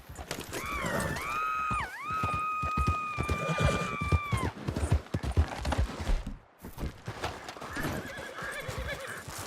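A horse in Red Dead Redemption 2 gallops with rapid, steady hoofbeats, letting out a loud, drawn-out whinny near the start, amid busy game sound effects and a brief drop in sound midway.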